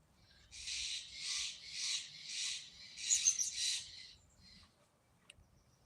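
Birds calling outdoors: about six loud, rhythmic bursts of shrill chirping close by, one after another, then trailing off into quieter background noise, with no talking.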